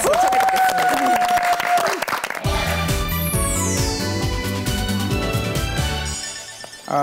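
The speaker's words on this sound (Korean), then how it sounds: "박수 청해 듣겠습니다" Studio audience applause greets novelist Kim Hong-shin as he is introduced for a lecture on a Korean TV talk show; dense clapping fills the first seconds, then music rises over it.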